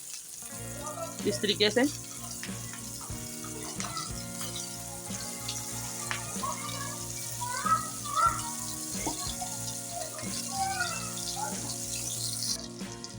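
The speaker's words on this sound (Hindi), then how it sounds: "अब इसको हम फ्राई करेंगे। घी मैंने पहले ही रख दिया था गर्म होने के लिए।" Chicken and lentil shami tikkis frying in hot ghee, a steady close sizzle and crackle with occasional spatters as pieces go into the pan, while someone talks briefly over it.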